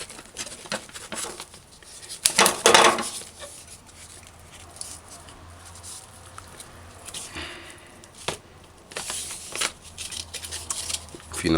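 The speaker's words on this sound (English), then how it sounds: "So we're gonna cut this in chunks like an inch, about an inch to inch and a half." A knife cuts a fresh piece of beef into chunks of about an inch to an inch and a half for stew, making soft, irregular squishing slices and light board taps up close, with a louder burst of cutting near the start.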